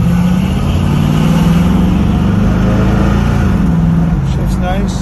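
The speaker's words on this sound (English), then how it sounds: "it idles in gear about 750" A stock Ford Mach 1 with a 351 Cleveland V8 idles in gear around 750 rpm, giving a steady, loud, close low burble, with a voice heard briefly over it.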